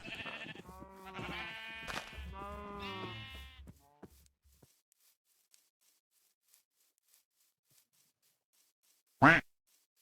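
Sheep bleating in the Minecraft survival game, with a custom texture pack applied, as two or three wavering, harmonic-rich bleats in the first few seconds, then quiet ticks and one short loud burst near the end.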